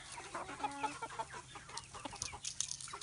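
Chickens drinking from nipple waterers, with light tapping pecks under steady clucking and rooster-like calls from the flock close by.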